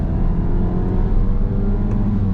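A Fiat Fastback Abarth with its 1.3 engine revs under a light throttle blip, a steady, loud low-pitched rumble that stays fairly even with no talk over it.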